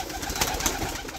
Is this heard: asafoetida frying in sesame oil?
no